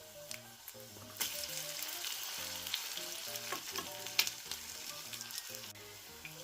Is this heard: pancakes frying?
yes